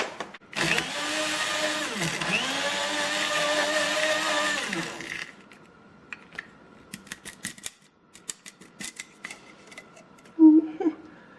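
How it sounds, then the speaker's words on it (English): Cane sugar, 200 grams, being ground into powder in a coffee machine's grinder: a loud, steady whirring roar with a dipping pitch lasting about four seconds, followed by scattered clicks and small knocks as the machine is handled. "Now we're gonna grind our 200 grams of sugar, of cane sugar, in the coffee machine because it's a bit too big."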